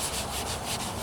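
Steady, close wet sanding of rattle-can white paint on a 1998 Toyota Corolla hood, a continuous rhythmic rubbing and scraping with regular back-and-forth strokes and no voices.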